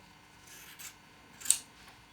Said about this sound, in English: using your scissors to cut along the edges of the freezer paper to cut out